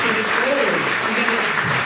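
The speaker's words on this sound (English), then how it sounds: "Would you do me the honour of starting the applause for our next time at the back of the room?" A comedy club crowd in Lichfield fills the room with loud, continuous applause, a dense blur of clapping mixed with voices and cheering throughout.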